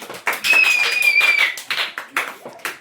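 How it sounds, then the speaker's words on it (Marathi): Hand clapping at home, a quick run of close claps followed by a few slower separate claps, with a high whistle-like tone over the start. "टाळ्या टाळ्या."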